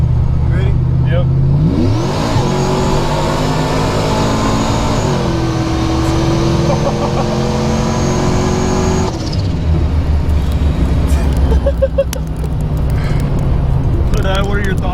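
A Procharged Chevrolet Trailblazer accelerates hard, its engine climbing through rising revs with a supercharger whine, easing off and then pulling again, loud and close, with voices heard in the cab.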